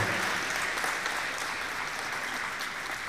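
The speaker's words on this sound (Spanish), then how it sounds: "aplauso para esta preciosa demostración del Instituto Juan Bosco." An audience at a school color guard competition claps in a dense, sustained round of applause that holds steady and fades slightly, with no talk.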